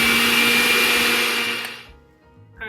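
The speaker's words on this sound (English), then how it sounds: "just put the mixer on low here" An electric mixer runs on low through softened butter for shortbread cookie dough, a loud steady motor whine that winds down and stops, then a brief rattle as it restarts.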